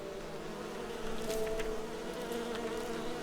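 Bees buzzing in the fantasy role-playing game Enderal, a continuous insect drone that swells slightly halfway through, with no speech.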